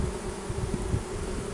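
Honey bees buzzing inside a natural-built Spanish Layens hive, a soft, continuous close-up hum with slight wavering swells as the colony stays in the nest.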